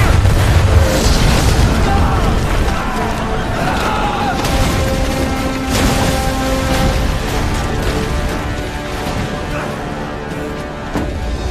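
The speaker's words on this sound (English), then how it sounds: "Take aim! And fire!" Ship cannons firing in a naval battle, a dense, loud rumble of booms and crashing blasts filling the whole stretch, with shouted voices mixed in.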